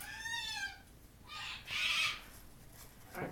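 Pet birds calling indoors, with a few close, fairly loud chirps and a sharp squawk, heard alone in a quiet room.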